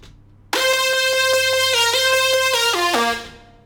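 Xfer Serum synth lead processed with EQ and a stereo enhancer, starting suddenly after a quiet moment and playing a loud, harmonically rich stepped melody before fading out at the end, no voices.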